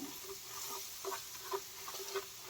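Garlic chutney sautés in oil in a pan over a low gas flame, a soft, gentle sizzle with faint pattering and occasional stirring clicks, quiet and close, with no voices.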